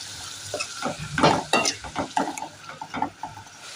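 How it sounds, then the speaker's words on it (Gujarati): Brinjal pieces sizzle loudly in hot oil for a Gujarati ringna shaak, with a series of scraping stirs and clatters from a utensil against the pan across a few seconds, no talking. "તેલ ગરમ થઈ ગયું છે, હવે નાખવાના છે રીંગણા।"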